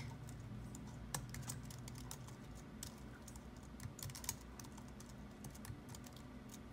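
Quiet typing on a computer keyboard, a run of soft, uneven key taps with a few sharper clicks over a low background hum.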